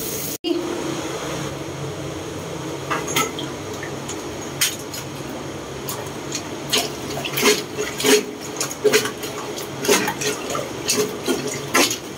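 Water is poured into a clogged toilet, a continuous splashing and trickling with scattered sharper drips and splashes, fairly close and with no talk over it.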